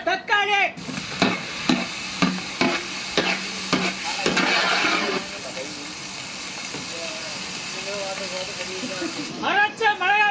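Chopped tomatoes are stirred into a hot pan of sesame oil, onions and ginger garlic paste for a duck fry, with quick metallic scrapes and knocks. A loud burst of sizzling hiss follows and settles into a softer fry, and a voice comes in near the end.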